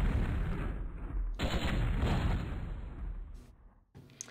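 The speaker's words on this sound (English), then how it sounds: "But this thing that fires 4 missiles." A weapon in MechQuest fires four missiles, producing heavy rumbling blasts that run together, then fade, followed by a brief final pop. The booms are loud and close, with no talking.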